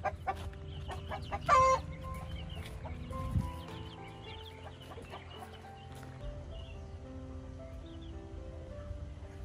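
A flock of domestic farm chickens clucks nearby, with irregular scattered calls and one louder squawk, over faint background noise and no talking.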